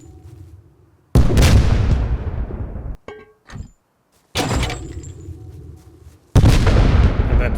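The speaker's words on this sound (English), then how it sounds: "let's just go to the pipe bomb" Pipe bombs blast against a wall in the video game Rust, three heavy booming explosions with long rumbling tails, separated by brief quiet gaps with small clicks.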